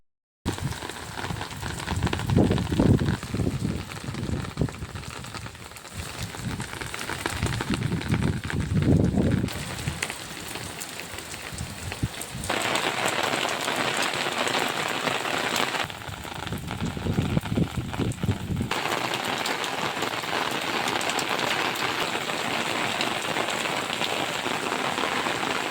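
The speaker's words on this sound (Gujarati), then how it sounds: "એકદમ ફૂલ વરસાદ ચાલુ થઈ ગયો અમારે અહીંયા" Heavy rain pours steadily in a village, a dense hiss drumming on surfaces that runs the full length, with louder gusty bursts rising and falling in several places.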